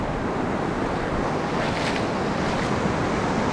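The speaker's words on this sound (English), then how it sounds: "you can see the waves breaking" Waves break on a sandbar at sea in a continuous loud rush of surf, with wind buffeting the microphone throughout and no voices.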